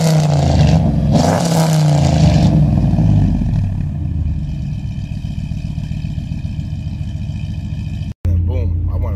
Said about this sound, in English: Give it a little gas. You gotta rev it.